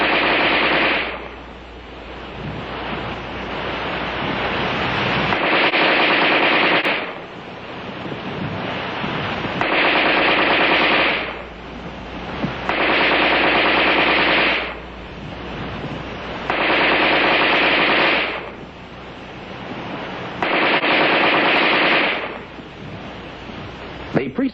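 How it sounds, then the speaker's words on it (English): An Armalite AR-10 rifle firing rapid automatic bursts of NATO ammunition from preloaded magazines, loud, repeated rattling volleys with short breaks between them, under a constant windy outdoor rush. "The preceding demonstration of rapid fire illustrated the use of preloaded magazines."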